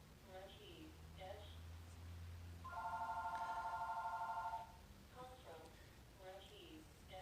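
A telephone rings in bursts of electronic trilling tones, mid-loud and close, with a low hum and other beeps around it in a quiet room.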